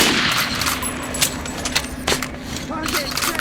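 Gunfire at a shooting range in the game Metro Last Light: a rapid string of sharp close shots and metallic clatter over a dense background din, with voices speaking underneath.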